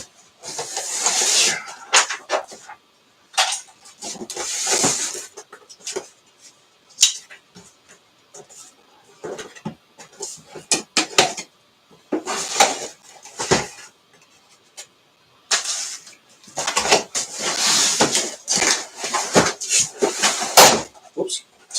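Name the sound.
workbench drawer being handled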